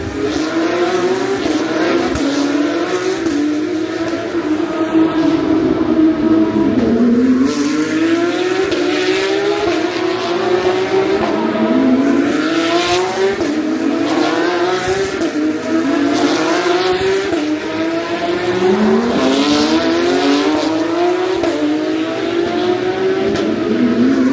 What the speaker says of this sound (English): Cars up around 230 kilometres an hour in places around the Marina Bay streets